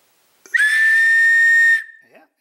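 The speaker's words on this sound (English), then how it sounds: "whistle test." A plastic whistle from a survival kit blown in one steady, shrill blast lasting over a second, loud and close, tailing off with a brief fading tone and no talk.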